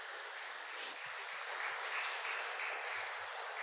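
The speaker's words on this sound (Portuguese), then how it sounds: "Que as palmas possam louvar" A church congregation applauding, steady broadband clapping at a low, distant level, holding evenly throughout without pause.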